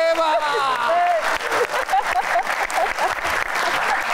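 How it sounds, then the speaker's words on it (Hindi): Studio audience applause on a Pakistani TV game show, a steady wash of clapping filling the whole stretch, loud and continuous, with a host's voice and musical tones running over it. "हरीम के लिए तालियां"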